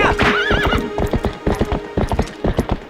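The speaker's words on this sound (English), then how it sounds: "I want to ride into the village with no name with my horse of no name" Horse hooves clip-clop in a steady galloping rhythm while riding Epona in the video game The Legend of Zelda: Twilight Princess, loud and close, with a neigh near the start.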